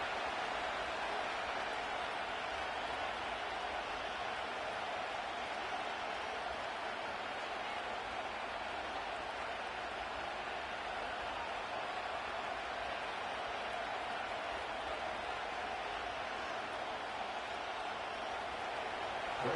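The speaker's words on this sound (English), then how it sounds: "A good crowd on hand and seemingly ready to go in the Motor City." Steady roar of a stadium crowd at Ford Field in Detroit for a Week 6 game in EA Sports' Madden NFL video game, a constant broadband murmur that stays level and loud throughout with no clear voices.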